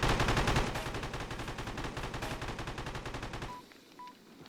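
Rapid gunfire from a powerful gun in the video game Pigface: a dense, fast burst of loud shots for several seconds, then a sudden drop to quieter sound with a few short electronic beeps.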